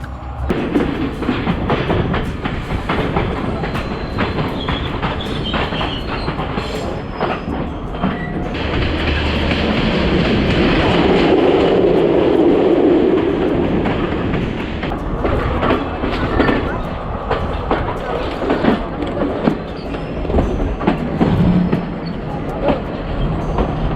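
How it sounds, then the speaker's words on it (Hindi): A Sri Lankan train on the Kandy to Nuwara Eliya line runs loud and close, with a steady clattering rumble of wheels and carriages that swells near the middle, and faint voices mixed in. "अभी ट्रेन वापस जा रही है, इस स्टेशन पर आई और फिर वापस बैक हो गई।"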